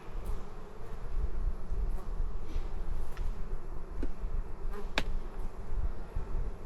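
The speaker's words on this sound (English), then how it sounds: "Plenty of bees down here." Honey bees buzzing in an opened hive, a soft, continuous droning hum with a few brief sharper ticks and knocks, no voices.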